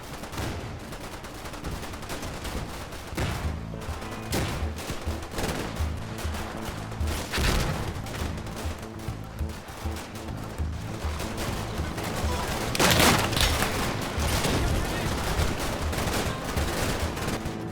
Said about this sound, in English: At Objective North, an intense exchange of gunfire erupts across the street as pioneers occupy houses.